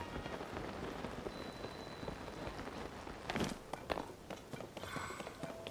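Steady rain falls in Zelda: Tears of the Kingdom, a soft continuous hiss of drops on the ground, with light footsteps and a few sharper splashes partway through. No one speaks.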